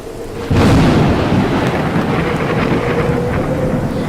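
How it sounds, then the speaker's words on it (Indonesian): Thunder during a storytelling performance of a folk legend at an elementary school competition: a sudden loud crack followed by a deep, sustained rolling rumble with rain-like hiss, no voices. "Petir menggelegar, menyambar kapal si Lancang."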